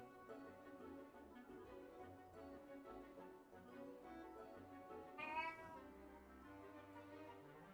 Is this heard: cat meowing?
yes